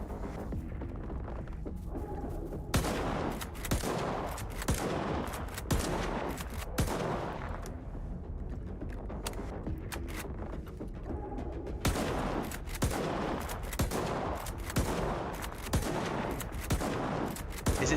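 Rapid, sustained gunfire in the video game S.T.A.L.K.E.R. 2, repeated bursts and single loud shots hammering away close up over about eighteen seconds with brief lulls between volleys.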